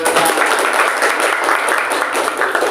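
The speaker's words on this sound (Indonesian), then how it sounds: "Oke, tepuk tangan." Classroom applause as children clap their hands together, a loud, close, continuous burst of dense clapping that holds steady throughout.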